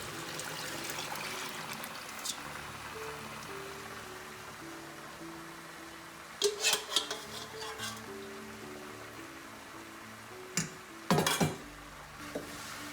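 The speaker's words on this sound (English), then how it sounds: "So now I'm gonna put the sauce inside" Sauce poured into a pot of goat meat in a home kitchen, a faint trickle and slosh with clinking of the pot and utensil, a couple of sharper knocks near the end, no talk.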